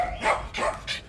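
A dog barks three times in quick succession indoors, sharp yelping barks close to the microphone with short gaps between them.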